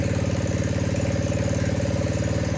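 A snow blower engine idles steadily close by, a throbbing, evenly pulsing mechanical chug that holds without change throughout, with no voices over it.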